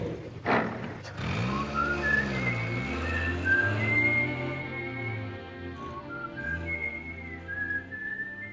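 Several people whistle a melody together in a 1944 film scene, a clear, steady tune carried over a low, continuous rumble.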